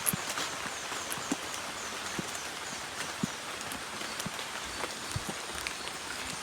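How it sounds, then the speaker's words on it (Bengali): Heavy rain falling outdoors, a steady hiss with scattered sharp drop impacts hitting close by, faint overall and without talk. "বৃষ্টিটা একটু জোরে আছে আর কি"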